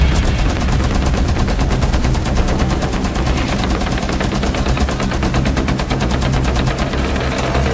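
Rapid hip-fire gunshots in Rainbow Six Siege rattle out in a dense, evenly spaced automatic stream, loud and close, continuing without pause for several seconds.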